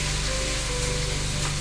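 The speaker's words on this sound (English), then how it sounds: "your sizzles are picking up on the mic" Food frying in a pan, a constant close crackling sizzle with a low electrical hum beneath it, steady and fairly loud throughout.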